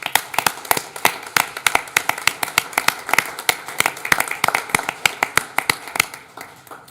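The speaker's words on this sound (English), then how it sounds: "Let's give these people a round of applause." A city council meeting audience gives a round of applause, with sharp, close individual claps standing out in an uneven rhythm over a few seconds, loud and without talk.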